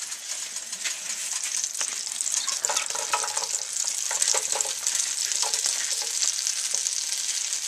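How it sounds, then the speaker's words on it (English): Mushrooms browning in melted butter and oil give a loud, steady sizzle close by, with occasional crackles and soft stirring scrapes. "I'm going to start adding the mushrooms"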